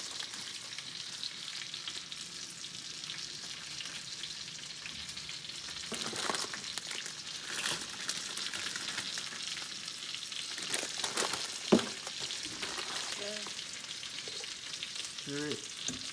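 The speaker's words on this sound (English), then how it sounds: "Just give it a light stir just to kind of get it coated in the oil so it doesn't stick." Fettuccine sizzles gently in hot oil in a frying pan as it is stirred, a soft, steady frying hiss with a few scraping clicks of the utensil.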